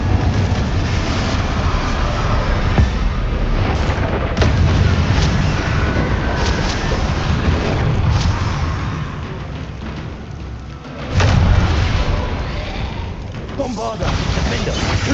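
Spell blasts from Bombarda and Confringo in Hogwarts Legacy, a steady barrage of booming explosions and rumbling impacts that runs the whole time, loud and dense with a stronger burst near the end, while a voice talks over it.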